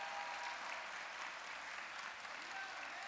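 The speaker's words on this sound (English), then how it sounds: "let's give another good applause" Sustained audience applause fills a lecture hall during a talk on feminism, a steady dense patter of many hands at moderate loudness with no speech over it.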